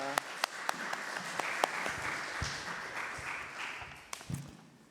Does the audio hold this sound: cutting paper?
no